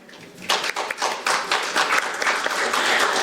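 Applause breaking out at a National Assembly forum to welcome a speaker, starting with scattered claps and quickly swelling into fuller, steady clapping from a modest crowd.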